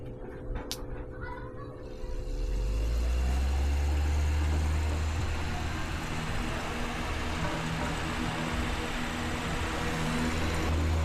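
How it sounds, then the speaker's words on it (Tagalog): An AC electric fan converted to a DC motor starts up and settles into a steady, close hum with a low tonal drone and airy whoosh, a brief voice heard before it spins up. "AC electric fan converted to DC motor."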